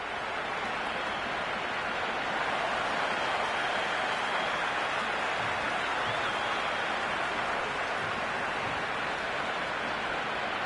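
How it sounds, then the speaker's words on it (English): A stadium crowd in the cricket video game Cricket 26 sends up a dense, unbroken roar of cheering and clapping. It holds loud and steady for the whole stretch, like heavy rain, with no individual voices standing out. "It's evident and ever so audible that the crowd is at near bursting point at today's play."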